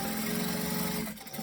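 A sewing machine stitches straight seams on a travel tote bag, a steady close mechanical whir that runs continuously, then stops abruptly near the end.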